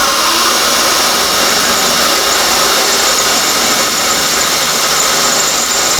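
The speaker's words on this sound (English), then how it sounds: "you're gonna have to drill through both sides of this box tubing" A loud, steady drill grinds and squeals as it bores through steel box tubing, a harsh continuous whine with no pauses and no talking.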